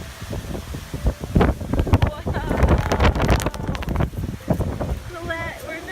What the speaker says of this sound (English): we're in a hurricane